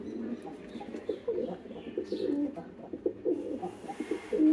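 Sarting and Mukhi pigeons coo softly nearby, their low rolling calls repeating in uneven bursts, with a faint chirp now and then.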